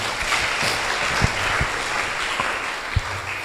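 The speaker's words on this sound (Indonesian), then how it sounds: "Tepuk tangan bagi Tuhan kita." A congregation claps during an Indonesian church sermon, a continuous wash of applause with a few louder, closer individual claps standing out, steady throughout and with no voice over it.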